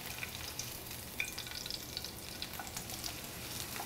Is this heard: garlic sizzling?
yes